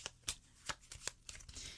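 Tarot cards being shuffled by hand, a few crisp riffling bursts at an uneven rhythm, close and fairly quiet with no talking.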